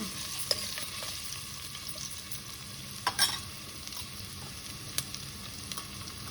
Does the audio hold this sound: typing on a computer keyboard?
no